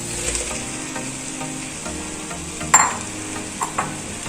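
Cut okra pieces drop into hot oil in a pan and are stirred, giving a steady close sizzle with a sharp clatter as they go in and a few later scrapes.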